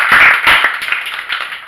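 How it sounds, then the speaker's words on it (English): Brief burst of clapping from a classroom audience at a high school, a few sets of hands patting unevenly and thinning out within under two seconds, close and fairly loud with no talk. "Let's give her a round of applause for that."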